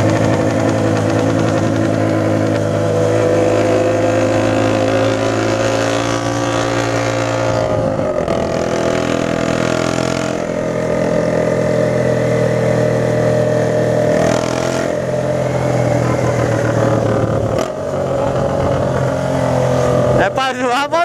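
A Honda CG Start 160 motorcycle with a modified exhaust revs and idles steadily on a night ride, a loud continuous engine drone with a few dips and swells over about twenty seconds.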